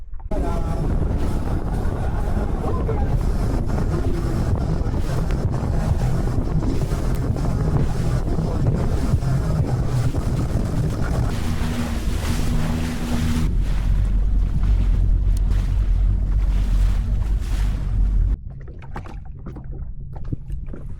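A Sea-Doo personal watercraft roars steadily at about 50 mph over calm open ocean, engine drone mixed with rushing wind and spray, easing to a lower rumble near the end.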